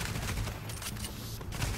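Rapid bursts of automatic gunfire from a shooter-game firefight in The Division, loud and continuous with overlapping shots throughout the short burst.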